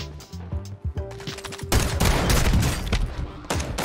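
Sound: gunfire during a gunfight in a Call of Duty battle royale video game

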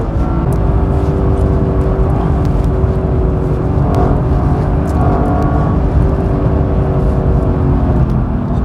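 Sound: Lexus LC500 coupe accelerating on a circuit in Sport Plus mode

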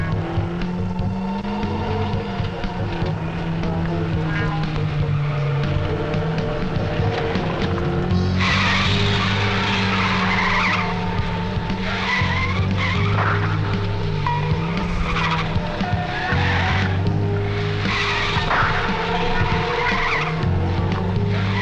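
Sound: old car driving fast with skidding tires

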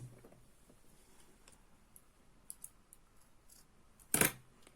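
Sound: cutting yarn with scissors while crocheting

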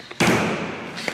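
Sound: plastic bottle landing from a bottle flip

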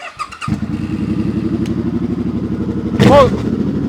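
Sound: motorcycle engine running

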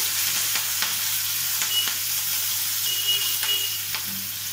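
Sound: green chillies and onion frying in a pan for cashew upma

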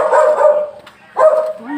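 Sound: dog barking

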